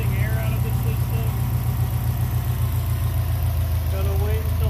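A Subaru STI engine idles steadily with a low, constant rumble while its cooling system is bled of air, the hum continuous and close throughout.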